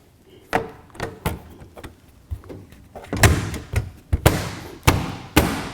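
A furnace filter door clatters into place with a series of sharp snaps and thumps, some single and some close together, loud and near with no talking.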